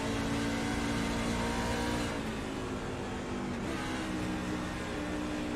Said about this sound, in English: I think he is downshifting.